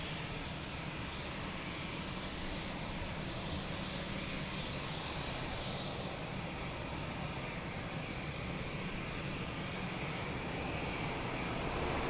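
An airliner, flight Portugal 1032, makes a rolling takeoff on runway 02 at Lisbon Airport. Its engines give a steady, broad, distant roar that holds evenly for the whole stretch with no talk over it.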